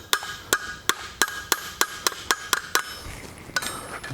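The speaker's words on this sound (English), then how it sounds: "Wooden mallet just to make sure everything is flat" A wooden mallet strikes forged metal for art deco bookends, about a dozen sharp, evenly spaced knocks roughly every half second, close and clear, with a brief pause before a final pair of blows.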